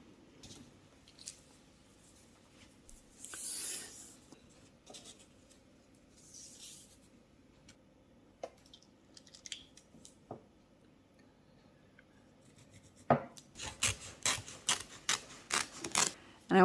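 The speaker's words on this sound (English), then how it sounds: "the first thing I'm going to do is cut off the extra 11 inches on one side" Scissors cutting off extra cross stitch fabric, with faint rustling and handling early on, then a run of loud, close, rhythmic snips near the end.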